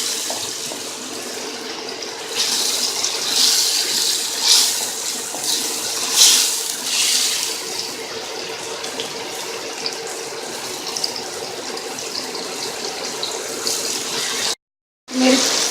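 Water splashed onto tomatoes cooking in a pan for Pakistani chicken karahi gives a steady, close hiss of sizzling liquid with brief louder splashes, running continuously before a short cutoff near the end.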